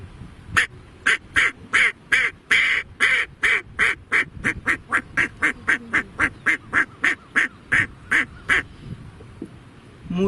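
A person imitates a duck's quacking with the voice, giving a long run of about twenty-five sharp, evenly spaced quacks in a steady rhythm, loud and close.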